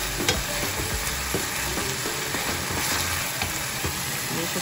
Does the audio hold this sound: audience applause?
no